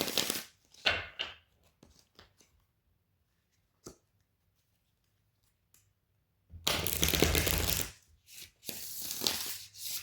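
Tarot cards being shuffled up close, with brisk riffling and flicking bursts at the start and a longer dense stretch later, separated by near silence.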